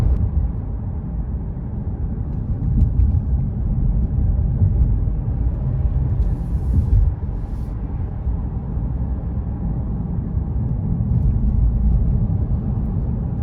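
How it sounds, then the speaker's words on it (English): A 2021 Mercedes-Benz GLC 300 with a 4-cylinder turbo cruises at about 40 mph, heard from inside as a steady low road and engine rumble with faint tire noise, unbroken and even in level. "the 4-cylinder turbo has a typical 4-cylinder whine"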